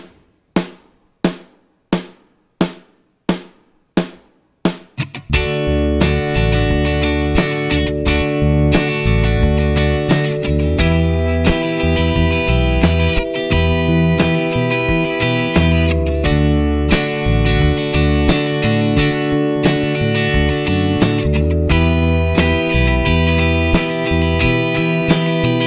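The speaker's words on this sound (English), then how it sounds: "that was my bass part using only chord tones" Eight sharp snare hits count in, then a full band enters with a steady bass guitar line playing only chord tones, moving between root notes, under distorted guitars and drums.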